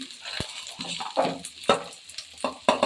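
Onion, green chilli and ginger fry in oil in a hot pan, with a spoon scraping and stirring in uneven strokes over a soft, steady sizzle, close and alone with no voices.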